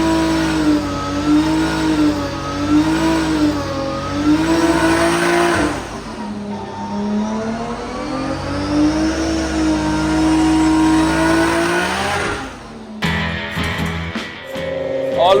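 An S14.9 car's engine revs hard and continuously on a dyno, rising and falling in long sweeps, loud and close, with a sharp change in tone near the end.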